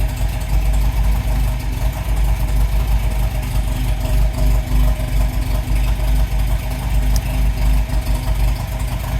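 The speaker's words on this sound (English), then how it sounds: "got the choke in now. See, will idle." A 1952 MG TD engine idles steadily after a cold start with the choke pushed in, giving a loud, close, continuous low rumble with a slightly uneven rhythm.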